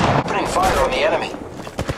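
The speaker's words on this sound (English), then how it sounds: "Opening fire on the enemy!" Rapid gunfire in an Apex Legends match, a loud burst of shots with short cracks toward the end, mixed with game voice callouts over the firing.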